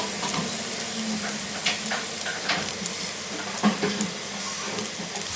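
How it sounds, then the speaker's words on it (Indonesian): Spice paste with pandan leaf, lemongrass, galangal and torn lime leaves sautéing in a pan for Manado-style chicken woku, a steady close sizzle with occasional stirring scrapes and no talk. "Nah, ini kita tumis sampai bumbunya wangi, mateng."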